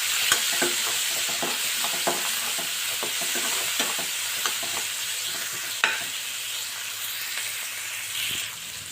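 Curry leaves and potato with okra frying in a pan, a steady bright sizzle with repeated spatula scrapes and taps on the metal, close up and continuous, no speech.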